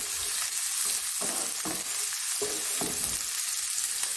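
Onion sizzling steadily in a little hot oil while being cooked for a Saudi-style dish, a dense continuous frying hiss broken by repeated stirring scrapes, close and alone without voices.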